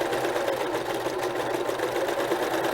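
A serger sewing machine runs steadily through fabric with a clear presser foot and differential feed set to neutral, giving a continuous close whirring hum with fast even rhythm and no pauses.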